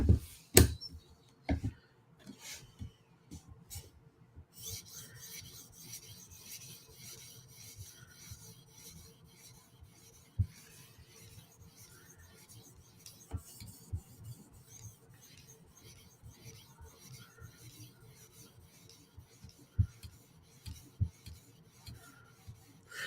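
A knife blade rubbed back and forth across an 800 grit whetstone to sharpen and polish the edge, giving steady close rasping strokes with a few sharper scrapes and no talk.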